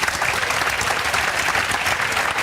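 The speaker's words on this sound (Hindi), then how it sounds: "इनके लिए जोरदार तालियां बजा दो" Loud, dense applause from a crowd for a student's mother at a school ceremony, continuous and even throughout the short stretch.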